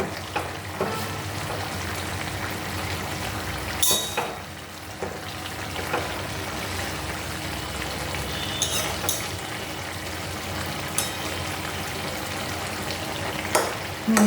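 Vegetables frying in a pan, a steady hiss of hot oil with periodic scraping and clatter as a spatula stirs them, fairly close and continuous with no talking.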